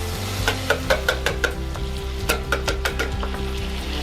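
Cornstarch hitting melted butter in a pan for a béchamel, a loud close steady sizzle with a rhythmic series of utensil clinks and scrapes as it is stirred, no voices.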